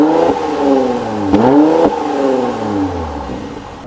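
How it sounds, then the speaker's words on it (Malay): Mercedes C43 AMG 4Matic with its V6 engine and exhaust revving close by, loud rising and falling blips with sharp pops between revs, settling into a lower idle drone. "korang dah dengar sendiri enjin V6 yang terhasil daripada enjin C43 ni"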